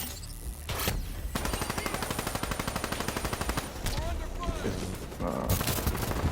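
Light machine gun fire in Call of Duty Black Ops 2, a long rapid burst of evenly spaced shots with a few separate single blasts around it, loud and near.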